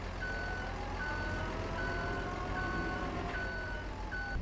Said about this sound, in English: Is a truck turning on our road?